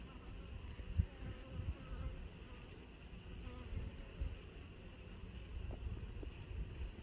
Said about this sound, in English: Those are the bees that make sure that they tend to her and take care of her.